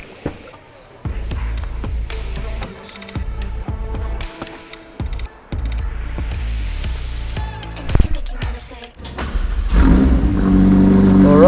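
A McLaren 765LT supercar pulls away from Motorworld Munich, its engine revving up loudly and rising toward the end over background noise and scattered knocks, with some talk in between.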